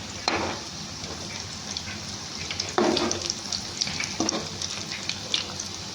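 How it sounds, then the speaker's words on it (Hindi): Arbi leaf patode roasting in a pan over a low flame: a soft continuous sizzle with a few scraping stirs, quiet and close, no talk. "देखो इस तरह बिल्कुल हल्की आंच पर मैं इसको सेक रही हूँ।"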